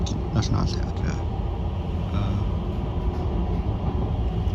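An Oslo Metro train running during an early morning ride, giving a steady, loud, low rumble with rattling throughout and a voice faintly present beneath it.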